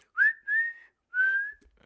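Three sharp whistle blasts sound alone and close, the first short, the second longer, and the third drawn out after a brief pause.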